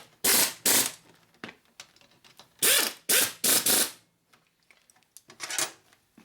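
A socket ratchet clicks in quick bursts while tightening bolts on a 1980 Harley-Davidson shovelhead 92ci engine during a top-end rebuild, several close, loud runs of rattling pawl clicks with pauses between.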